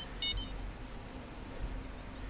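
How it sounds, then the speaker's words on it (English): Fishing rod bite alarm in the video game Fishing Planet, set at a lake while bottom fishing for lake trout and burbot, gives a short faint burst of high electronic beeps near the start over a low steady background hum. "It stopped beeping, he didn't take the bait, though."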